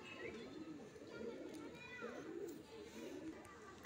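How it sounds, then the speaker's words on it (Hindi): Punjabi pigeons cooing softly in a loft, repeated low throaty coos rolling along with faint bird chatter in the background, quiet and close. "ये देखो कबूतर दोस्तों"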